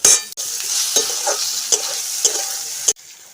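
Chopped tomato and salt hit crushed garlic frying in a pan for egg biryani, raising a loud, steady close-up sizzle broken by regular spoon scrapes and knocks, with brief sharp drops in sound near the start and end.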